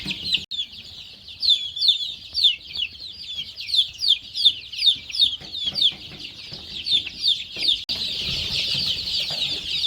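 Desi chickens on a farm, clucking repeatedly in quick, rhythmic bursts close by, ending in a rush of noisy wing flapping.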